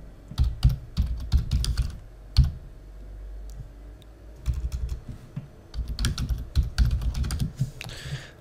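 Computer keyboard typing in short bursts of clicking keystrokes during a ninth-grade computer lesson, close and fairly clear, with pauses between bursts and no speech.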